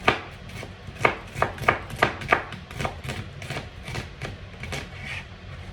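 A knife chops onion on a cutting board in a home kitchen: sharp, evenly spaced close knocks, about a dozen in quick rhythm that slows and softens toward the end, with no talk.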